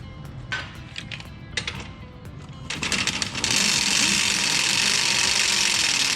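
A ratchet wrench clicks in quick bursts while backing off a 17 mm spindle nut during a lift kit install on a 2015-2021 Subaru Outback, close and crisp, with a steady hiss rising late.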